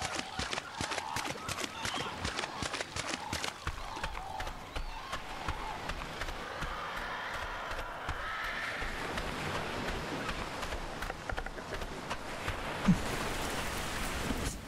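In-game rain in Ark Survival Ascended, a steady hiss of falling drops with soft patter on surfaces, while a horse whinnies and hooves thud in the background.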